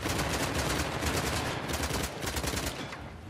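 Continuous rapid gunfire rattles through a firefight in the action game Uncharted: The Lost Legacy, with dense overlapping shots at a steady, fairly close level that thin out near the end.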